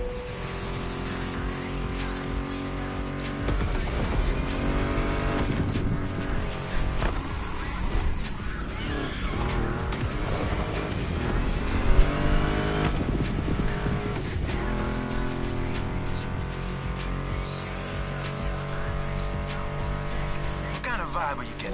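Ford Mustang GT muscle car in the video game The Crew, its engine roaring and revving continuously with tire squeal, heard under a layer of loud rock music guitar riffs.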